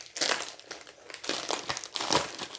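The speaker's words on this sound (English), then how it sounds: "And then I have pattern paper. Very crinkly." Crinkly patterned scrapbook paper is unwrapped from its packaging, producing close, bursty crackling and rustling in uneven waves, with no voices over it.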